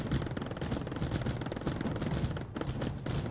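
Hail turrets firing in the Mindustry video game, a dense, continuous barrage of rapid gunfire-like booms and rattles with a brief dip near the end, loud and steady throughout.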